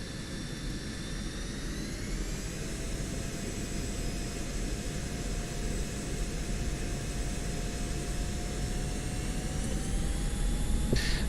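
An F-16 jet taking off from a runway in DCS World, a loud sustained engine roar with rising whining turbine tones that slowly climb in pitch, steady and close.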